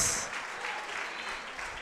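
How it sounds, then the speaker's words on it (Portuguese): Theater audience applause for a young performer at a launch show, a brief, faint, steady patter of many hands clapping. "Uma salva de palmas, senhoras e senhores, para esse jovem, Sebastian Torres!"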